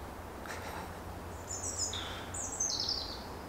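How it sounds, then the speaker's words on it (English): Faint high birdsong in woodland, chirps and trills over a low steady rumble of distant road traffic, a couple of short songs rising from the background. "all I can hear is birds."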